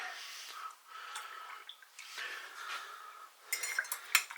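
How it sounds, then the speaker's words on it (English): A spoon stirs turmeric into a cup of tea, with light clinks of metal against the cup that come sharper and denser near the end, and soft breathing nearby. "Then we take a good ½ teaspoon of turmeric, stir it in"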